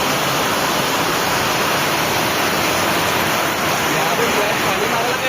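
Heavy rain drums steadily and densely throughout while a vehicle drives at night near Hatkeli village, forming a loud, continuous wash of noise with no pauses.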